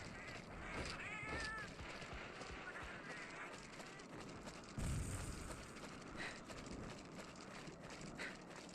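A Palico cat meowing in Monster Hunter 4 Ultimate, with several short mewing calls amid game hoofbeats and a sudden booming impact, while a player talks over it.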